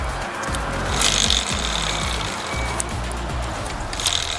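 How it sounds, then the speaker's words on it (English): A Yamaha PW80 dirt bike's rear tire spins on a stand during chain and sprocket work, giving a steady low rhythmic whirring and ticking of the wheel and drivetrain, close and continuous, with faint higher metallic hiss. "Keep spinning that rear tire until this butterfly makes that brake mechanism stop the tire"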